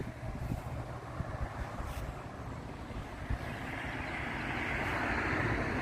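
Strong wind roars steadily through a cottage garden in upstate New York in spring, with gusty rumbling, building slightly louder toward the end; no voices.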